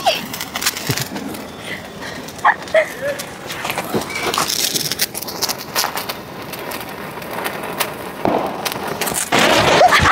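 A burning firecracker crackles and hisses with scattered sharp pops during Dhanteras celebrations, while people talk nearby over it.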